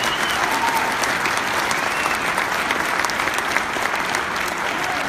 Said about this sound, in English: So please give a huge round of applause for Flora and all those original chapters.